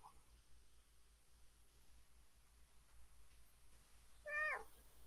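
A kitten gives one short, clear meow near the end, close and fairly loud against a quiet room with faint background hiss.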